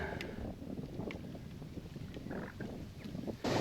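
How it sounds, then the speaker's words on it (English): Gusty wind buffeting the microphone at a fishing lake, a low uneven rumble with soft surges throughout and a sharper blast at the end. "you can hear the wind. It's just picking up even more."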